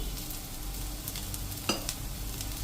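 Ghee sizzles around ragda patties frying in a pan, a soft, steady hiss that stays low and even throughout, with one brief sharper tap near the end and no speech.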